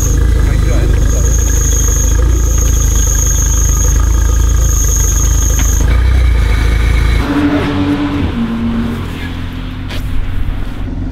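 An Abarth car engine rattles loudly from the front with the clutch pressed, a steady, dense mechanical clatter and hum that drops to a quieter idle near the end.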